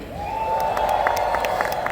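A convocation audience cheers and applauds, a dense, steady roar of clapping and whoops filling the hall at close range with whistles and shouts rising through it.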